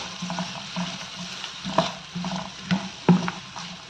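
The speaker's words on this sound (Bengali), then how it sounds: "এখন পেঁয়াজটাকে কিছুক্ষণ ভেজে নেব" Chopped onions fry in hot soybean oil in a frying pan. A steady low sizzle runs throughout, with a few sharper stirring clicks and scrapes. No one speaks.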